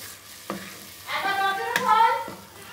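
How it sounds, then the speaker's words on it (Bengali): Spice paste for a pea and paneer curry is stirred in a frying pan, giving a soft sizzle with a few sharp scraping knocks of the spoon, close by, with faint tonal sounds over the middle. "এবার আমি এগুলো একটু নাড়ব।"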